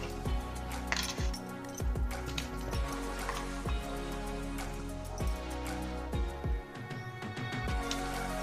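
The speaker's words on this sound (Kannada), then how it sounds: "ಪಾತ್ರೆ ಹಾಕ್ಕೊತೀನಿ." Metal pot set down onto a stove while making homemade soap, giving repeated sharp clinks and knocks against a steady background hiss, fairly close and moderately loud.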